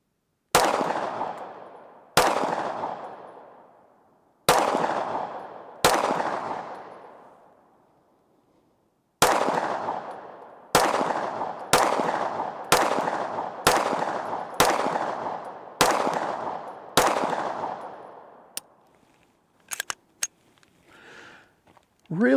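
A Smith & Wesson M&P pistol fires at an outdoor berm about 50 yards away, about a dozen sharp shots with echoing tails, first widely spaced and then in a quicker string, followed by faint clicks.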